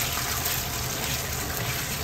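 Water pouring steadily into a pan of coconut milk while cooking laing with bagnet, a continuous close gushing splash throughout with no voices.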